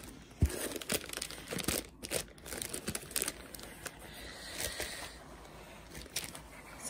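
Plastic packaging from a diamond painting kit crinkles and rustles in irregular bursts as it is unwrapped close by, with a soft thump at the start and no talking.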